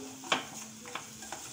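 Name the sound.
spice masala with red chilli being sautéed in a pan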